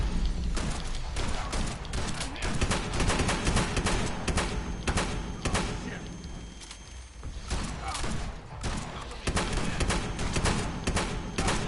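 Shotgun blasts boom repeatedly in a fast-paced video game fight, dense thumping shots layered with effects, loud and near throughout with little pause.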